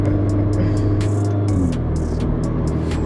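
An Alfa Romeo Giulia Ti Sport pulls away with a loud, close engine note that drops in pitch as it shifts, with repeated whooshing pulses over a steady low roar.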